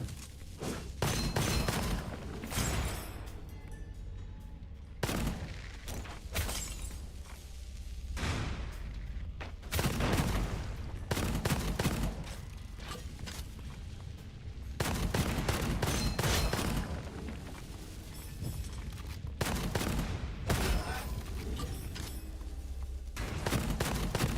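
Heavy gunfire in the Resident Evil 4 video game, loud bursts and booming shots in irregular clusters over about twenty-four seconds, with a dense rumbling game background between volleys and no talk.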